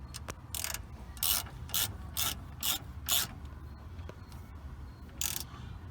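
Ratchet wrench with a 13/16 socket loosening a nut while replacing upper control arms on a 2000 Ford Ranger, giving about eight bursts of rapid clicking in irregular spurts, close and fairly loud over quiet background.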